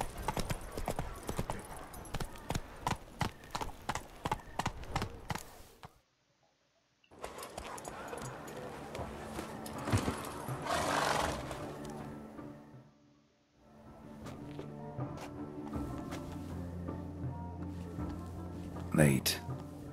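Horse hooves clip-clop at a steady trot in a video game, loud and near, broken by a brief pause, then continuing under background music with a short whinny near the end.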